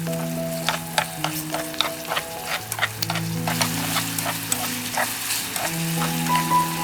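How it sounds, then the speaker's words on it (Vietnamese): Meat sizzles and crackles in a hot pan over medium heat with scraping stir sounds and a low steady hum underneath, no talking. "bây giờ cho phần thịt vào, bật bếp lên mức lửa vừa"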